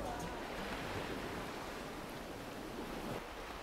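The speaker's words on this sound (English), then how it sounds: "Too much of noise due to ocean waves." Steady ocean waves and surf roaring continuously at a fairly close range, a dense wash of noise with no distinct breaks.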